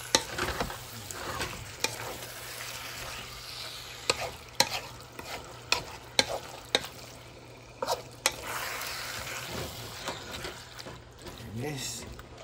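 Pork igado frying in a pan while being stirred, a steady sizzle with repeated scrapes and clinks of the utensil against the pan, close and fairly loud.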